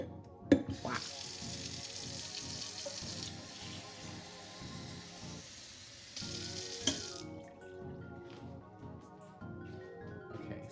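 Water runs steadily from a kitchen tap into a cup for several seconds, a continuous close hiss and splash that cuts off near the end, followed by faint handling sounds.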